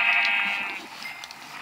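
A Minecraft sheep bleats loudly in a drawn-out, wavering cry that fades, with a few softer game sounds after it.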